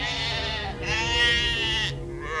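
Sheep bleat in a steady, harmonic cry from livestock grazing in hills beyond a valley, one long call flowing into another, fairly close and loud with no talk over it.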